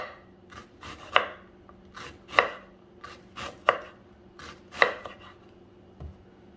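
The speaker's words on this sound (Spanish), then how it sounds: "Aquí piqué ya la mitad de una cebolla, la partí a la mitad y a la otra mitad, y ya nada más la cortamos aquí en rodajitas." Knife chopping half an onion into thin rings on a cutting board, about eight crisp cuts landing in an uneven rhythm, close and fairly quiet.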